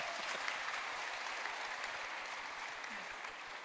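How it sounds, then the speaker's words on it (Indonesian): Steady audience applause at a webinar on crypto regulation, a dense even wash of many hands clapping, fairly faint and continuous throughout. "Kasih tepuk tangan dulu."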